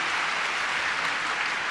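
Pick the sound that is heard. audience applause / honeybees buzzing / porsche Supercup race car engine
audience applause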